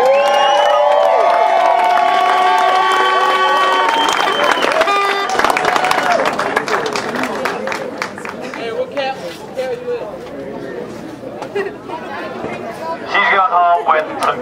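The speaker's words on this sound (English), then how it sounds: "Big round of applause for all the riders today in every single category." Crowd at a Mountain Creek Bike Park mountain bike race cheering and applauding the riders, a loud burst of claps and whoops that fades into continuous chatter and babble, with a brief swell of cheering near the end.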